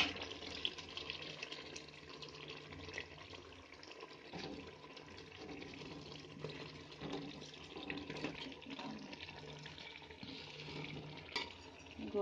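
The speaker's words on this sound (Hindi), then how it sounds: "गोभी डाल दी हमने, मिक्स करेंगे इसे।" Cauliflower is stirred into a pan for aloo gobi matar, giving a continuous low sizzle with scraping and stirring scuffs and occasional pan clinks, fairly faint and steady throughout.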